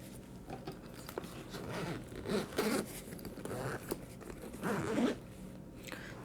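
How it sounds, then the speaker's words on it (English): A Nomatic 8L sling bag's zipper pulled open in a few separate rasping runs, the longest zips near the middle and end, close and fairly quiet with no talking. "So nice zippers"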